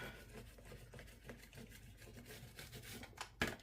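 A card edge scrapes a UV DTF wrap down onto a tumbler with a soft, continuous rubbing rasp. The sound is faint and steady, with a slightly sharper scrape near the end.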